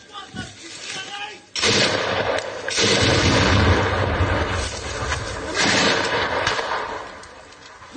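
Gunfire and artillery from fighting near Kyiv: loud, dense bursts of shots and heavy booms that roll on almost without pause, with a quieter stretch at the start and another near the end.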